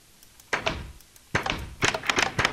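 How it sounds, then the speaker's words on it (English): An iron door opens by switch in Minecraft with a single hollow clunk, then a cluster of quick knocks and taps follows about a second later, close and fairly loud. "when we flick the switch, we should hear the door open."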